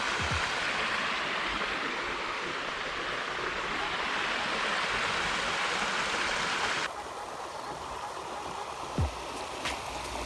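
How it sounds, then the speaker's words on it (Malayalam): A forest waterfall on a walking trail in Glenfield gives off a loud, continuous rushing roar that drops slightly in level partway through, with no voices. "അങ്ങനെ നമ്മൾ വെള്ളച്ചാട്ടത്തിൻ്റെ അടുത്തെത്തി"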